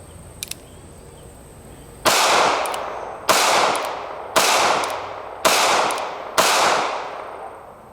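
Five loud, evenly spaced shots from a North American Arms Pug .22 Magnum mini revolver, each a sharp crack with a short ringing tail, fired about a second apart after a couple of faint clicks, with no talking.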